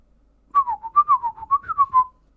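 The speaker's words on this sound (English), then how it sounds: "Whistles." A person whistles a short wavering tune of about ten clear notes in quick succession, close and fairly loud against silence.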